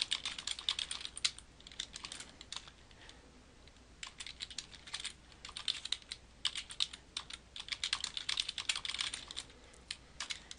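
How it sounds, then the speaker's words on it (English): Fingers type on a computer keyboard in quick irregular bursts of light clicking with brief pauses, close but quiet, with no voice. "I can then type my search terms into the search box"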